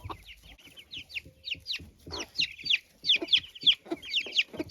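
Hen clucking among her chicks in a farmyard, a close series of short rapid clucks mixed with high peeping chirps from the chicks, alone without voices.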